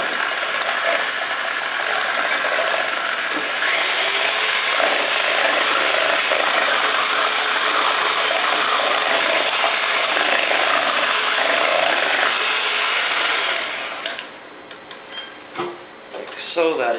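An electric mixer beats eggs with a quarter cup of sugar for a caramel pecan chocolate dessert, giving a steady, loud, continuous whir that runs for about fourteen seconds before stopping, followed by brief clatter.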